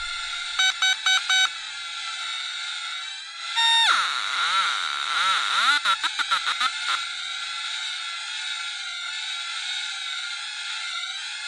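A Eurorack modular synthesizer module drones a continuous electronic tone, broken by bursts of rapid bleeps and a stretch of warbling, sweeping pitch in the middle.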